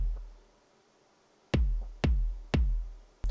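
A layered kick drum blending a deep sub kick with a realistic acoustic kick, one hit near the start and then four punchy hits spaced about half a second apart, each with a booming low tail and a sharp click on top.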